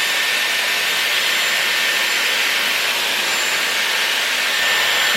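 Dyson Airwrap hair styler blowing hot air, a steady, loud, close whooshing hiss held unchanged throughout with no talking.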